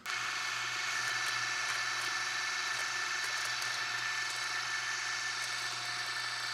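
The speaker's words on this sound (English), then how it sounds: "the ground meat is pretty well firmed up again from the freezer, so let's run it through the grinder one more time" An electric meat grinder makes a second pass through freezer-chilled ground meat for homemade smoked bologna, holding a continuous, even motor whine with a low hum that starts at once and stays steady throughout, with no voices.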